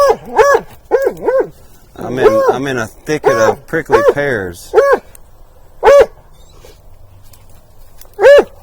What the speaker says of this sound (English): Dog bark, how's that?